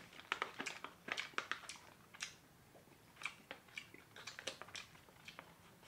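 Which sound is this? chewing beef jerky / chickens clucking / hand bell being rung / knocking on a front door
chewing beef jerky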